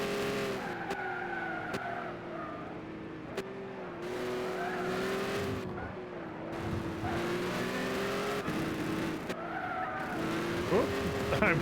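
A race car in Gran Turismo 6 brakes and skids, with tire squeal and a droning engine note rising and falling across the run while someone talks over it.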